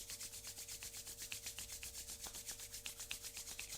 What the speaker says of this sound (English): rub the palms of the hands together